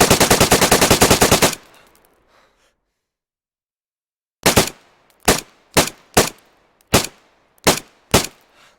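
An SG5-K submachine gun fitted with a compensator fires in the video game DayZ: a loud, rapid full-auto burst, a pause, then a string of separate single shots, each with a sharp crack and short tail.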